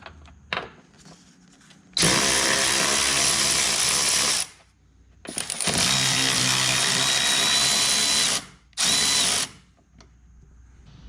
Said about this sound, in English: Remove the strut bolts.